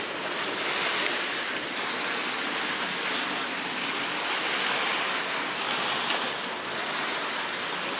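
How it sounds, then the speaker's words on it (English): Ocean surf off the coast at Lagos makes a steady, broad wash of breaking waves that roars evenly throughout, with no voices. "Can you see? Like, the waves."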